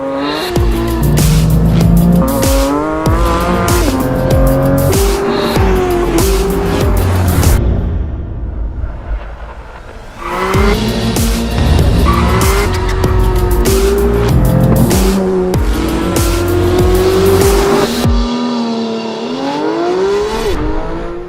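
A Porsche 911 GT3's naturally aspirated 4-liter engine screams through high revs toward 9,000 RPM with repeated gear changes, tires squealing and skidding, loud and close, with a brief lull midway.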